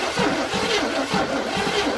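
A car engine with a suspect distributor cranks without catching, a loud, close, rhythmic churning of the starter that pulses about four times a second and never fires.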